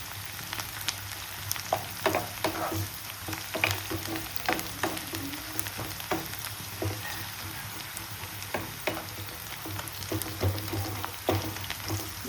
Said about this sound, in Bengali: এই দেখুন অনেকটাই ভাজা হয়ে এসছে পেঁয়াজটা